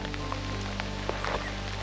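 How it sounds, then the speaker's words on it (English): Rain falls outdoors by a house, pattering on and near a camera lens as a steady, soft, close hiss of small drops with no voices. "Sorry, there's rain on the lens."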